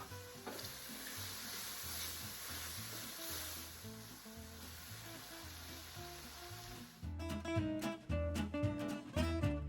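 Garlic hits a hot pan and sizzles softly under a steady crackle, then the sizzling flares louder and more broken for the last couple of seconds as it is stirred.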